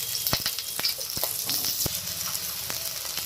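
Eggplant frying in hot mustard oil in a wok, a steady close sizzle with sharp crackles and pops as the pieces hit and settle in the oil.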